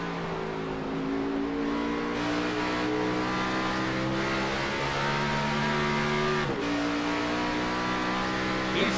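On-board engine of an Xfinity Series race car at Gateway, roaring loud and steady at high revs, with a brief dip as it shifts partway through, continuous and close throughout.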